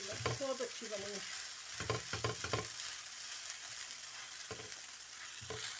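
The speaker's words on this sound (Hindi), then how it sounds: "अब 2 स्पून से मैं इसको मिक्स करती हूँ।" Chili garlic egg noodles tossed with two spoons: bursts of clinking and scraping utensil strokes come in quick clusters over a soft pan background, close and fairly clear, with no talking.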